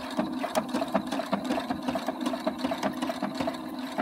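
An Opal 670 sewing machine stitches embroidered letters with a rapid, even mechanical clatter of needle strokes and whirring motor, steady and close with no talking.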